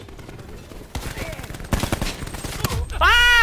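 Rapid automatic gunfire from Call of Duty: Black Ops 4 in a SWAT gameplay match, several loud bursts in quick succession ending in a louder, sustained blast with a whistling, ringing tone, with someone shouting over it.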